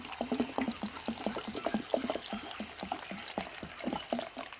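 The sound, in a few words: watering strawberry plants with purified water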